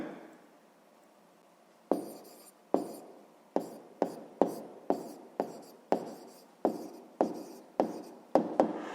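A pen jots down an answer on paper, with a quiet pause and then a quick run of about a dozen sharp, close strokes and taps, with no voices.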